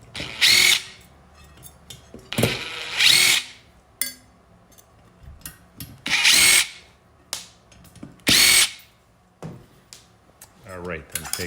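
A power drill spins in several short bursts while backing out the four screws that hold a plate inside a KS0-PRO crypto miner, with quiet handling clicks and clatter between the bursts.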